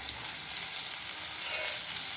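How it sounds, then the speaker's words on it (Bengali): Crushed garlic sizzling in hot oil in a pan, a steady close crackle and hiss with small pops, no voices. "রসুনটা পোড়াবো না, কয়েক সেকেন্ড একটু নেড়ে চেড়ে নেবো।"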